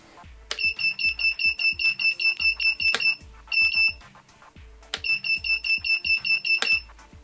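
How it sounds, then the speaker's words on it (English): Rapid electronic beeping in fast bursts from a buzzer installed on a DL180 mini quad drone, shrill and pulsing repeatedly, pausing briefly, then resuming, close and loud. "including the buzzer which I installed."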